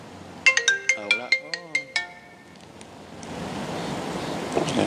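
A phone ringtone plays as a rapid run of bright, repeated electronic beeps for about a second and a half, loud and close, then falls away into a steady windy hiss like surf.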